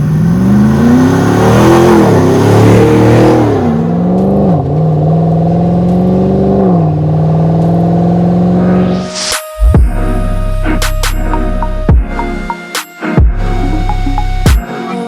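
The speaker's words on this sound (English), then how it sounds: "This 110 is powered by our 450 horsepower LT1 engine with 8-speed" A loud 450-horsepower LT1 V8 engine in a restored 1963 Land Rover Defender 110 revs up and down repeatedly, then settles into deep idle with sharp throttle blips and pops near the end.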